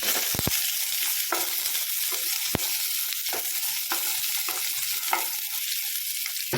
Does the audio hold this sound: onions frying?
yes